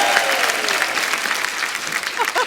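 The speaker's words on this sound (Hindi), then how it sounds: "एक बार कपिल के लिए तालियां" Studio audience applause on a Hindi comedy talk show, a short steady burst of clapping with light crowd noise and a voice briefly over it.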